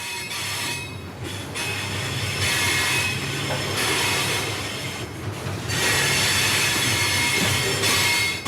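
Freight train rolling on rails, heard from inside a crowded car: a loud, continuous roar of wheels and carriage noise with high metallic screeching that swells and fades across the stretch, no voices.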